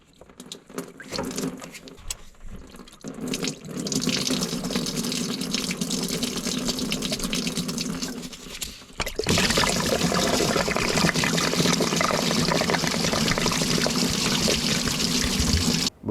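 Coolant from a disconnected radiator hose on a Chevy Silverado pouring and splashing, first a lighter trickle and then a sudden, heavier steady gush, close and continuous.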